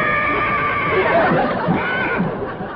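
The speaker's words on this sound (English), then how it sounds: "I thought I heard a horse" A horse neighs in a long, loud whinny that rises and wavers for nearly three seconds, heard close and alone with no talk over it, set in a comedy scene on a cold winter day.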